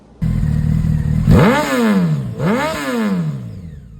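A Honda 919 motorcycle with aftermarket chrome exhausts idles loudly and close, then revs hard twice, each rev rising sharply and falling back to a steady idle.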